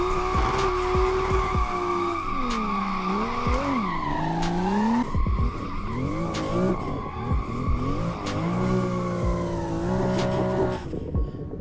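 A BMW M2 drifting in the Assetto Corsa racing game at a drift park, its engine note rising and falling continuously under long, loud tire squeals, with no talk.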